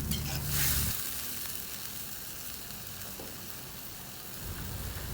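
Bean sprouts stir-fry with tomato in a hot pan, giving a continuous close sizzle with a louder burst of frying and a few scraping stirs near the start, no talking.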